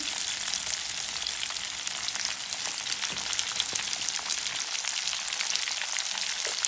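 Garlic, onion and green chilies fry in hot oil in a pan, giving a steady, close crackling sizzle with scattered pops throughout and no voices.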